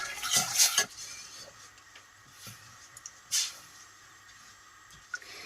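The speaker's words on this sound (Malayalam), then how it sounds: "ഇനി ഇവനെ നന്നായിട്ട് നമുക്ക് ഇളക്കി കൊടുക്കണം." A spoon stirs sugar syrup in a pan over a low flame, making a few sharp metallic clinks and scrapes, the loudest near the start, separated by quieter gaps.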